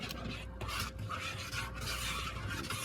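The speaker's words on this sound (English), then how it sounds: "Scrape the sides of the bowl" A spatula scraping around the sides of a mixing bowl of bread dough, soft repeated rasping strokes close by and fairly quiet, with no talking.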